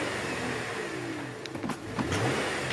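A 2016 GMC 3.6L GDI engine with a hesitation fault hums steadily, then revs up briefly a couple of times between 3,000 and 4,000 rpm, its pitch rising and dropping at close range.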